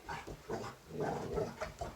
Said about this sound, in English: You're going to have to forgive the dogs. They're excited that I'm talking.